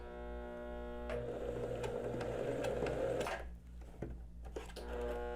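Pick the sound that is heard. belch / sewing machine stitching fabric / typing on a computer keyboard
sewing machine stitching fabric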